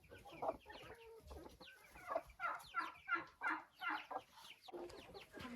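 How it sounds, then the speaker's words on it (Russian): Silkie chickens clucking inside a chicken coop, a run of repeated close clucks and soft calls that rise and fall in short bursts, with no talking. "Здесь шелковые цыплята"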